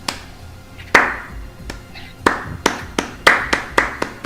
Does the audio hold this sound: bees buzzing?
no